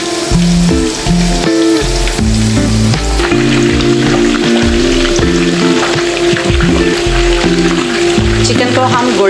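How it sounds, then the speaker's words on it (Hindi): Chicken pieces fry in hot oil over medium heat with a continuous loud sizzle and crackle, heard under loud background music. "अब हम चिकन पीस इसमें फ्राई करेंगे।"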